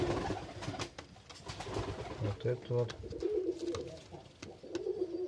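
Young Mordovian speckled pigeons coo in a loft, soft repeated low calls with wing and shuffling noise, while someone talks close by over the birds.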